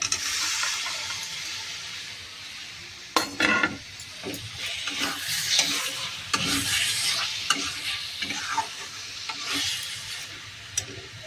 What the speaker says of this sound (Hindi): मसाला मेरा भून गया, मैं इसमें कटा हुआ पनीर डाल दूँगी